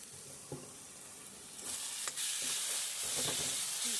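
Pointed gourd and potato curry being stirred in a pan, a soft sizzle that swells louder halfway through, with a few scraping stirs and knocks of the spatula, no voices heard.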